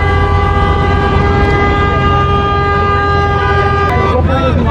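Car horns blare at a late-night car meet, a long sustained honk held steady for several seconds with a rumbling engine and voices beneath, ending in a short burst of noise.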